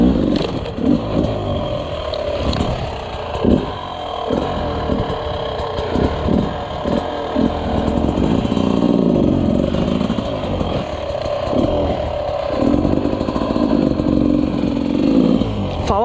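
An enduro motorcycle ridden around a home dirt track, its engine loud and close, revving up and down repeatedly with clattery throttle blips and a steadier pull toward the end.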